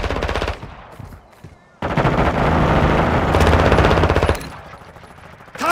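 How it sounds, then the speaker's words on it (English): Bursts of automatic gunfire and rapid shots in the video game Call of Duty MW2, loud and dense, with one long sustained volley in the middle and shorter bursts before and after. "Multiple shots."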